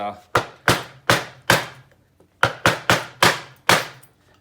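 A stuck part from a Mercury 15hp outboard carburetor is rapped against the edge of a timber block: about nine sharp, loud knocks in two quick groups with a short pause between, each ringing briefly before dying away.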